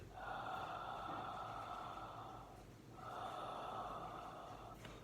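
Ujjayi yoga breathing with the vocal cords tightened at the back of the throat, making a steady hissing, ocean-like rush on two long breaths, one of about two and a half seconds and one of about two, close and clear with no talk.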